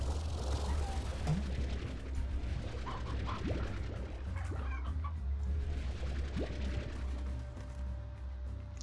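Stony hens cluck and chirp in the Slime Rancher video game, scattered short calls over a steady game background hum, moderately faint.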